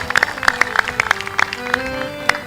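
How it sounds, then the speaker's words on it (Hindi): Scattered, thin clapping from a small crowd, sparse sharp claps spread unevenly over a few seconds rather than a full ovation. "तालियां ऐसे लगता है केवल 10 लोग बजा रहे हैं।"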